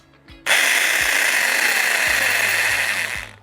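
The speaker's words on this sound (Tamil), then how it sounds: "சுவரில் ஓட்டை போடக்கூடிய ட்ரில் பிட்டு இது" An electric drill fitted with a masonry wall bit bores into a clay pot, starting abruptly after a brief pause and holding a loud, steady whine with grinding rattle for about three seconds before cutting off, with faint low thumps underneath.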